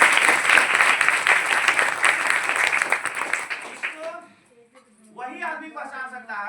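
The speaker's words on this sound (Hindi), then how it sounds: "इसके लिए एक बार पहले जबरदस्त ताली दीजिए।" Enthusiastic audience applause at a wellness product talk, loud dense clapping for about four seconds that dies away, followed by someone speaking.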